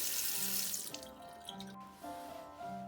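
Water running into and draining down an unclogged IKEA bathroom sink, a steady close trickle and gurgle with faint tonal ringing, no talking.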